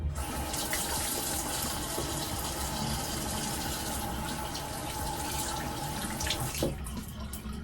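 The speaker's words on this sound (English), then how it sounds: "we're gonna wash our hands first" Tap water runs steadily into a sink during handwashing, a constant close splashing rush that holds for several seconds with a brief change near the end.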